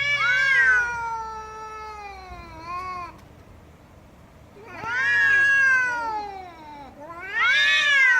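Fighting cats caterwaul in long, wavering howls that come in three loud bursts separated by a quieter pause, close and unaccompanied by speech.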